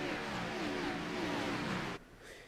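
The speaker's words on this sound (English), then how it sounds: "You're going to hear the engines rev up in a moment." Race car engines roar together at a race start in a racing video game at Homestead-Miami, a loud, dense wall of revving that cuts off sharply near the end, leaving a quieter engine drone.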